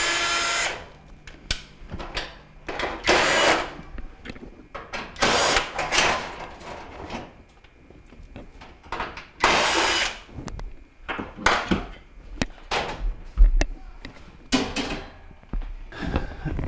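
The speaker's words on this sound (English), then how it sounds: "So first I'm going to do is remove all the screws so I can take the panels off." A power drill backs screws out of Kenmore stove panels, with repeated short whirring bursts separated by pauses and scattered clunks and metallic handling noises, fairly close.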